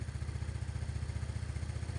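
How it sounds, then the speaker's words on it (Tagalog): Motorcycle engine idling steadily while its carburetor air screw is being adjusted, a close, even low throb with a fast regular pulse throughout and no voices. "so pag napapansin nyo nagbabago yung andar ng motor"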